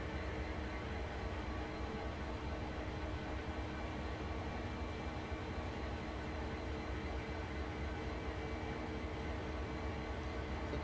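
Steady mechanical rumble and hum of a locomotive turntable rotating in Train Sim World with a CSX heavy-haul locomotive, a constant dense drone that holds unchanged throughout with no voices.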